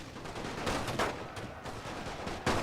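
Rifle fire and mortar shelling rattle through a World War I battle in The Great War, a dense, continuous volley of overlapping shots and thuds heard at a middle distance with no voice.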